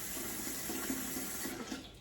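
Tap water runs steadily into a pressure canner for canning home-grown beans in glass jars, a close, continuous splashing gush that tapers off at the end.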